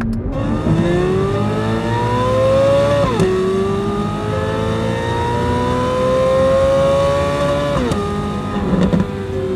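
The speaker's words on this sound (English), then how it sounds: "Feel the rear start to squirm under throttle there. Oh my God, what an unbelievable engine." A 2023 Corvette Z06 engine pulls hard under full throttle, its pitch climbing steadily through two long gear pulls with a brief drop at each upshift, loud and continuous from inside the car.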